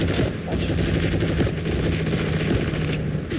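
Rapid automatic gunfire from the online shooter Heroes and Generals, sustained bursts filling the whole stretch at steady loudness, with a low humming tone underneath and no clear speech.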